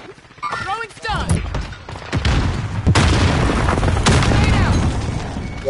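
A stun grenade bursts with a heavy boom during a frantic Warzone firefight, followed by rapid gunfire and thuds while players shout over the chaos.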